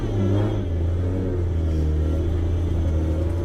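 Factory-manual Toyota Soarer JZZ30 engine heard from inside the cabin while driving: a steady, loud low rumble and drone that holds evenly throughout, with no talking.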